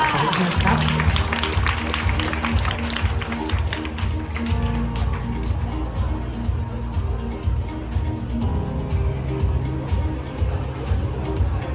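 Audience applause welcomes an official speaker at a Thai Children's Day ceremony hosted by the social development ministry. Dense, steady clapping fills the hall, with crowd murmur and sustained tonal music underneath.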